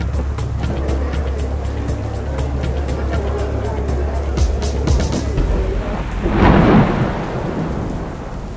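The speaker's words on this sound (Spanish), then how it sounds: "¡Madres! Ya comenzó a llover." Rain begins falling on a small roof shelter outdoors, a steady wash of drops with a low rumble building to a louder swell near the end, while people talk over it.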